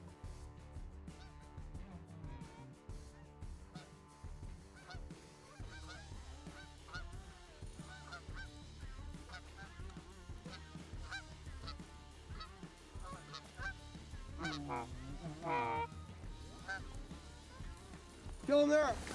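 Canada geese honk repeatedly as a flock flies in to land among decoys on an early-season hunt in northern Minnesota, overlapping calls near and far, rising louder toward the end, with hunters talking quietly underneath.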